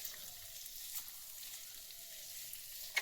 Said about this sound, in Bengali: তো আলুটা ততক্ষণ ভাজা হোক